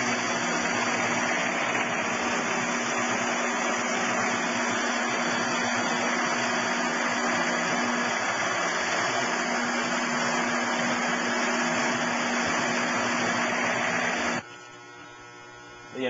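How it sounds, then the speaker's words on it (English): Loop mop winder machine (DD20) running with loop cutters installed, a steady loud mechanical drone with constant electrical hum that runs continuously, then cuts off abruptly near the end. "Now we're running the machine with the loop cutters installed."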